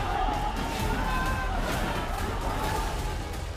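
A frenzied crowd roars continuously amid violence in a Delhi street, a dense, loud wash of shouting voices with a few higher yells cutting through, steady for several seconds.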